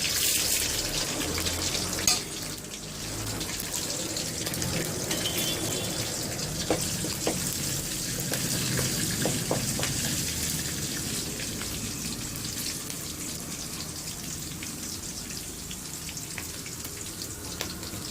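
Mustard seeds and spices, with green chillies, sizzle in hot oil for tempering Andhra-style mango rice, a steady close frying hiss with crackles and pops throughout.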